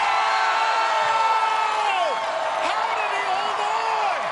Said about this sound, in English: this crowd's going crazy